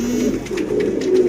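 A golden pigeon coos softly in low, rolling murmurs, close by and steady over a light background hiss, with no talking.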